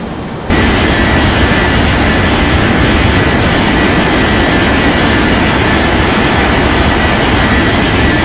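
Jet engines of an airliner on its takeoff roll in an air traffic control game roar in a loud, steady, broadband wash that kicks in abruptly and holds without letup, with no talk.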